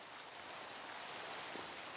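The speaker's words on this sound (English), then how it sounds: "Oh, it's raining" Rain falls in the Minecraft video game, a steady, soft hiss of rainfall continuing evenly without any voices.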